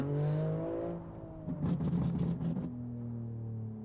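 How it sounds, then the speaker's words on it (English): A BMW G87 M2 engine revs up loudly and rises in pitch, then settles back into a steady drone, on the Nordschleife, with no voices present. "I already like the sound of this car."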